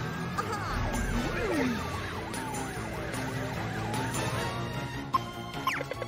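A cartoon ambulance siren wails in an emergency scene, its rising and falling tones repeating over a low street rumble, with a few sharp clicks near the end.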